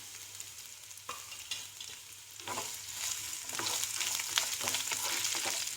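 Sliced garlic, ginger and mustard seeds with methi fry in hot oil for a Kerala coconut fish curry, a steady close crackling sizzle that grows louder and denser, with a few sharp pops.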